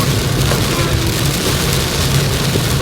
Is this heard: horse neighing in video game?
no